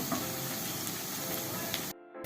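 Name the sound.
frying biuli dal piyaju fritters in oil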